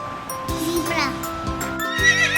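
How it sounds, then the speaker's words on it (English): A zebra gives a short, harsh whinnying call over a few quick hoof-like thumps, close and moderately loud. "Zebra."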